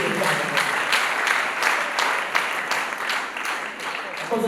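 Wedding guests applaud in a steady burst of dense clapping throughout, with a murmur of voices underneath.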